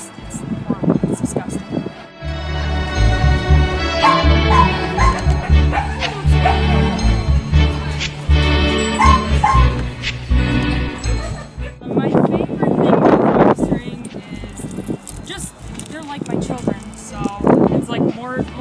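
Rescue dogs bark and whimper in bursts, loud and close, with yips and whines between and a voice talking at times.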